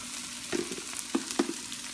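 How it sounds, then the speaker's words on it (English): Ginger frying in a pan for Bicol-style crab in coconut milk, a quiet steady sizzle with a few soft stirring taps, close and without talk. "let's cook the ginger for 30 seconds"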